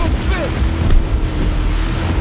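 Motorboat in the Battlefield 4 video game, a loud continuous engine drone mixed with rushing water and wind noise, a brief whistling tone early on.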